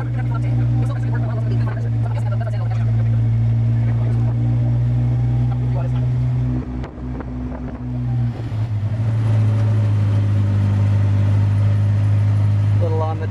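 A Willys Jeep engine runs steadily with a loud, continuous low hum, close by throughout.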